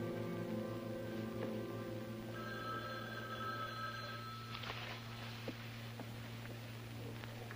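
A telephone rings in repeated electronic bursts in a quiet room, each ring evenly spaced and fairly faint, with no talking.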